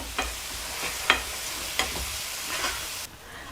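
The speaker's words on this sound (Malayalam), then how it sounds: "തീ കുറച്ചിട്ടിട്ട് വേണം വഴറ്റിയെടുക്കാനായിട്ട്." Masala with curry leaves sautéing over low heat in a pan for a Kerala-style wedding fish curry, giving a steady close sizzle with a few sharp crackles and stirring scrapes, no talking.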